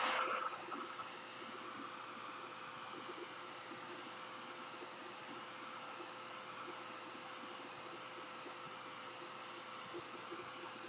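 A handheld heat tool blows steadily to dry color bloom spray paint on a craft surface, a continuous airy whirring hiss with a faint steady tone, starting with a brief louder burst and then holding even and close.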